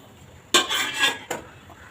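Metal cooking pot set down into a pressure cooker while making chole masala, a sharp clank followed by a short scraping rattle and a second lighter knock, close and fairly loud.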